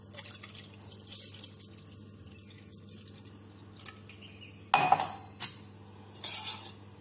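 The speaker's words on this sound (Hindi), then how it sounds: "और इसमें हमें पानी ऐड करना है 1 गिलास।" Water poured into strained tamarind water for golgappa (pani puri) in a home kitchen, a soft trickle with faint drips, then a few louder splashy clinks of a glass against a vessel near the end.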